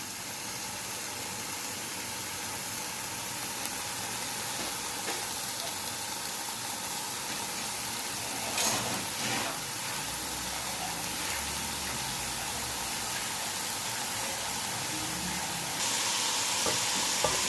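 Chicken pieces sizzle steadily in hot ghee for a restaurant-style chicken yakhni pulao, a continuous close frying hiss with occasional stirring scrapes and a brief louder burst midway, no voices.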